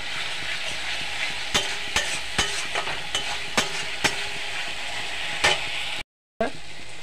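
Masala and water stirred in a pan for a spinach and egg curry: a steady wet sizzle with a run of sharp spoon scrapes and taps against the pan, a short gap of silence near the end, then the sizzle resumes.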